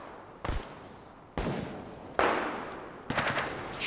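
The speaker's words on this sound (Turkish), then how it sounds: "Bildiğin gerçek silah sesi bu." Several sharp gunshots crack in irregular bursts, loud and echoing, the last a quick rapid volley like automatic fire.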